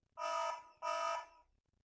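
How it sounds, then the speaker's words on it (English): Two long, loud electronic burglary alarm tones from a Hikvision AX PRO alarm panel blare one after the other with a brief gap, harsh and buzzing, then stop. "So that's triggering now, burglary alarm"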